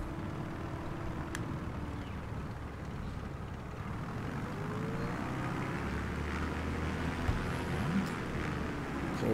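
A Beechcraft Bonanza's propeller engine in Microsoft Flight Simulator 2020 drones steadily at a low idle while the plane turns on the ground, a continuous engine hum with a faint tonal whine and no voices.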